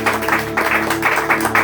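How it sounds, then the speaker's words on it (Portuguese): A church congregation claps together in a loud, sustained burst of applause, with steady music tones sounding beneath the clapping throughout. "Bata uma salva de palmas para Jesus"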